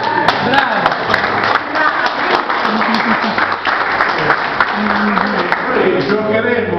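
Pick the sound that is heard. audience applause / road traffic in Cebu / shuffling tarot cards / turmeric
audience applause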